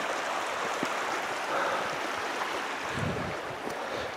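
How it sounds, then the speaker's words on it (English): Water flows in a steady broadband rush outdoors along a hiking trail in the dark, heard continuously at a moderate distance with no talking. "You can hear the water."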